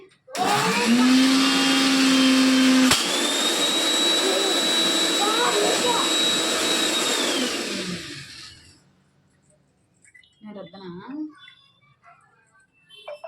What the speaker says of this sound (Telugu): నేనైతే గోరింట మిక్సీ వేసేసుకుంటున్నానండి